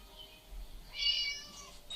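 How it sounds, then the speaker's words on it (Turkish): A cat in the video game Scary Teacher gives a single clear meow midway, faint and somewhat distant against quiet game background. "Kedi sesi sanki yaklaştı mı?"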